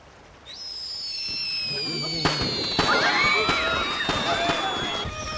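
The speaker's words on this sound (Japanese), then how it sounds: "打ち上げ花火というものは夜空に打ち上げるべきものである。" Fireworks in an anime scene launch with a rising whistle, then a burst of rapid crackling pops and bangs that continues, with a shouting voice mixed in.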